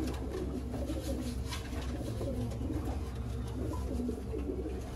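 A Kasuri pigeon breeder pair cooing, soft repeated low coos close by over a constant background hum, no talk.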